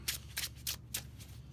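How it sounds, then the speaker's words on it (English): Loot cards for the Too Many Bones board game being shuffled, four quick riffled bursts in a steady rhythm, close and fairly quiet with no talking. "Got to get your trove loot and loot cards out and shuffle them up"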